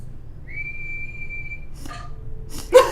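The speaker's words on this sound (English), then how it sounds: "What's whistling anyway? You put your lips together and blow." A person whistles one steady, clear sustained note for about a second, followed by brief breathy noises and a short loud burst at the end.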